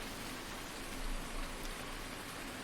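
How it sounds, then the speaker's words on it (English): Steady rain falls in Farming Simulator 19, a continuous soft hiss of drops on surfaces with no voices, holding an even level throughout. "the rain is still going on"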